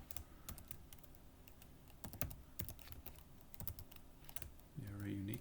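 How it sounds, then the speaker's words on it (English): Fast, uneven clatter of keys on a computer keyboard, close and fairly loud throughout, with a brief voiced murmur near the end. "Oh man, I can't type."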